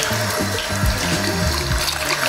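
Warm water runs steadily from a tap over a human-hair wig, wetting it from top to bottom. The flow is loud, close and continuous, with splashing and trickling and no talk.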